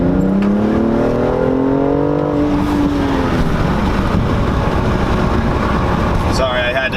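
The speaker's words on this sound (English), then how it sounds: "gonna do a second gear pull right now" A tuned BMW M235i pulls hard in second gear from low revs, engine note climbing steadily and loud for a few seconds before easing off toward a shift, with a voice over it.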